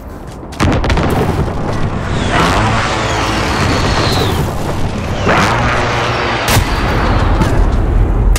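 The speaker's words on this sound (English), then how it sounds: "Allied precision airstrike incoming." Video game airstrike: a continuous rumbling barrage of explosions and booms, dense and loud throughout, with sharper blasts punctuating the heavy roar.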